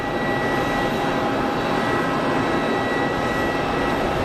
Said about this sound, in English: Meanwhile, easyJet A320 out to Split.